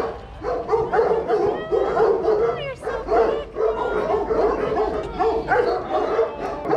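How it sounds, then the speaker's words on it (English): Many Serra da Estrela dogs bark together in a dense, continuous chorus at a kennel on a Portuguese farm. Overlapping bow-wows and yips come from several directions, some mixed with whimpers, and the barking stays loud and busy throughout. "we've got that beautiful big chorus of all the lovely Serra da Estrela dogs"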